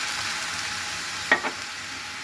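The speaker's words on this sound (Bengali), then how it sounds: "ডিমটা ভাজা হয়ে গিয়েছে, এখন আমি সামান্য পরিমাণে একটু পানি দিয়ে দিব" A fried egg in a pan hisses in a steady, even sizzle as a small splash of water goes in, with two brief sharp pops cutting through; no speech.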